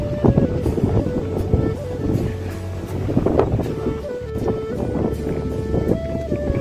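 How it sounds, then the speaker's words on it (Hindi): Wind buffets a microphone outdoors on a hillside college campus in Solan on a hot day, a continuous loud rumbling gust noise with a faint voice underneath. "बढ़िया हवा चली हुई है"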